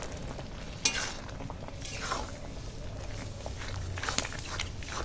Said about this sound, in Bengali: এবার ভালো করে ঘেঁটে নেব